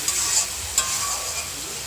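Cumin, ginger, chilli and coriander paste fries and is stirred for a katla fish curry with potato and drumstick, giving a steady close sizzle with a couple of brief scraping clicks.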